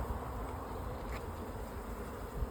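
Honey bees buzzing around honey frames during a harvest, a steady, dense hum filling the air without pause, close and fairly quiet, with no voices.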